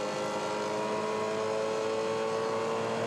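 Onboard race car engine on the final lap, a loud, steady high-pitched drone with sustained tonal whine and no pauses, heard alone without voices.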